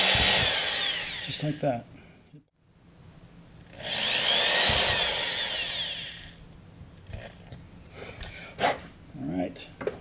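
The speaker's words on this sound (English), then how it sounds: "So all the holes are drilled in here." A power drill bores small holes into a Bud Light aluminum can stove in two loud whining bursts separated by a pause, with someone speaking between and after them.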